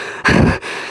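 A short, breathy exhale with a strained, grunting edge, like a voice imitating heavy breathing after exertion. Close and fairly loud, about a third of a second.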